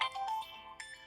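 A phone ringtone plays for an incoming call, a soft electronic melody of repeated tones heard faintly indoors with no talking over it.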